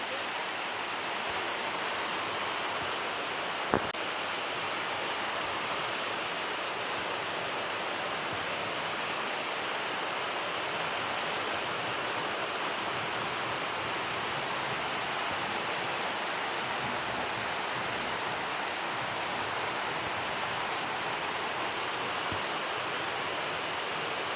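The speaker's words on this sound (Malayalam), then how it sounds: "മഴ ഇങ്ങനെ പെയ്യുന്നുണ്ട്" Steady, dense hiss of heavy rain falling without a break, even and unchanging throughout, with no voices.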